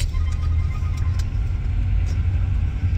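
A truck engine keeps running with its fan belt removed, producing a steady low idling rumble close by with no talk.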